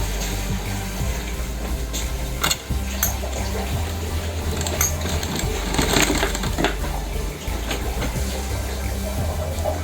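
Electric sewing machine stitching a double piping border on a sleeve, running as a steady mechanical hum with clicks and brief pauses, close and fairly loud with no talk.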